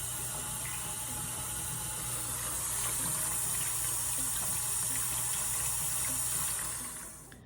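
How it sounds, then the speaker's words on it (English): Tap water pours steadily into a pan holding canning jars in a kitchen sink. The gushing hiss is even and close, keeps going with no pause, and then stops at the end. "I just keep filling the pan with the water until the jars are completely covered and full"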